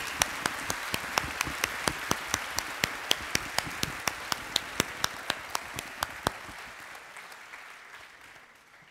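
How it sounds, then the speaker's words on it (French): Steady applause from a crowd at a bachelor's degree graduation ceremony, with a few sharp individual claps standing out, gradually fading toward the end. "crois qu'on peut les applaudir encore plus fort"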